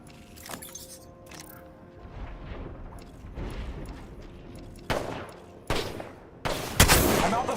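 Shotgun blasts ring out in a first-person video game, a few scattered shots early and then several sharp, loud bursts spaced about a second apart near the end, over rumbling in-game background noise.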